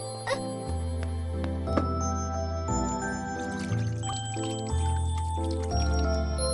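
Water poured onto a potted plant in the Tamil cartoon Gee Boom Boy: a light trickling and dripping pour, heard over a backing of cartoon music.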